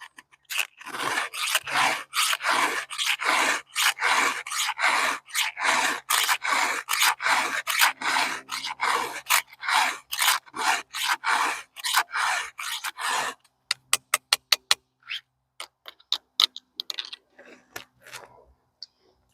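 A file is drawn across the teeth of a chainsaw ripping chain used for milling, in a long run of loud, close rhythmic rasping strokes, then a few quicker light scrapes and clicks near the end.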